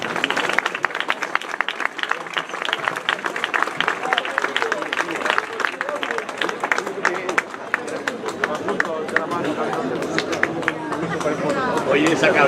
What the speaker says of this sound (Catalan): un aplaudiment per la Sílvia